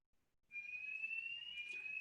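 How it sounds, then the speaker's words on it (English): An indoor fire alarm sounds after a brief quiet lead-in, a steady, loud, piercing electronic tone that holds unbroken to the end. "There's a fire alarm."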